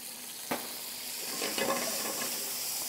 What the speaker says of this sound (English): I'm going to deglaze a little wine.